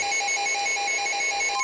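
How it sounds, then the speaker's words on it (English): An NOAA weather radio sounds an EAS alert tone, a steady shrill multi-tone electronic squeal that is loud and continuous, with no talking. "somebody's weather radio went off"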